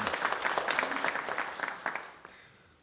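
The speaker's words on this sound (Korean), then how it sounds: "저기도 박수 한번 해주세요" Congregation applauding in a church for a newlywed couple back from their honeymoon, a scattered patter of many hands at moderate level that thins and fades out toward the end.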